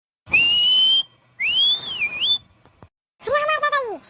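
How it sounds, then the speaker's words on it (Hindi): An elderly grandfather whistles in three loud, close bursts: a long held note, a rising and falling melodic phrase, then a final wavering tone, with short pauses between. "दादा सीटी मारता है"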